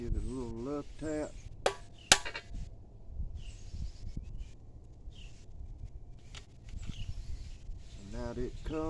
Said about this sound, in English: Take her hammer and give it a little love tap.